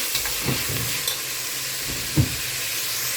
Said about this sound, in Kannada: ಇದು ಕೂಡ ಚೆನ್ನಾಗಿ ಫ್ರೈ ಆಗುತ್ತೆ.